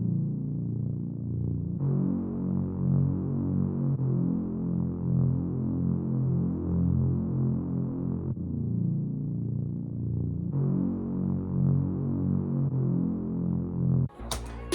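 Long R&B bass sample taken from a producer's drum kit, deep sustained tones throbbing through a simple repeating pattern, loud and alone, with a brief sharp transient at the very end.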